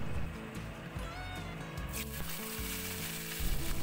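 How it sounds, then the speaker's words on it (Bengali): Cardamom pods, cloves and a piece of cinnamon sizzle in hot oil as a tempering for a banana blossom curry, a steady dense crackle with a few sharper spits, loud and close throughout. "4টে ছোট এলাচ, 4টে লবঙ্গ, 1 টুকরো দারচিনি, গরম মশলা হিসেবে দিলাম ফোড়নে।"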